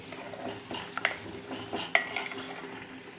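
Rice kheer stirred in a pot with a utensil, giving soft scraping and occasional metallic clinks against the rim, quiet and close, with a couple of sharper taps along the way.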